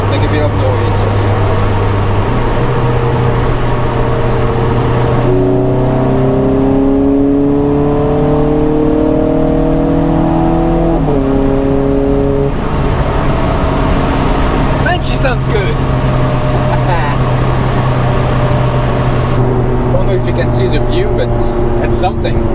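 A Ferrari 430 Scuderia's engine revs while driving in rain and snow, its pitch climbing and dropping through several gear changes, loud and continuous with road and wind noise underneath.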